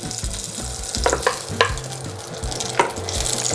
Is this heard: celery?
yes